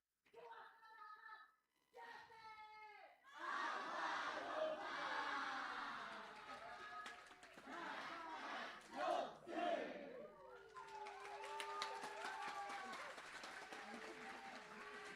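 Audience applause and cheering after a Balinese theatre performance by Teater Jungut Sari. Brief shouts open it, then dense crowd noise and clapping swell loudly and carry on steadily to the end.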